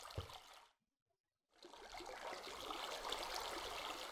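Flowing water in the Minecraft video game, a steady rushing trickle that cuts out briefly and then returns, continuous and fairly loud with no talking.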